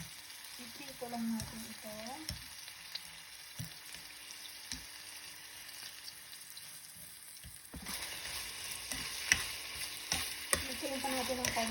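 Turkey meat frying in a pan and stirred for kalderetang pabo, with a soft continuous sizzle broken by scraping stir strokes and a brief spoken line near the start.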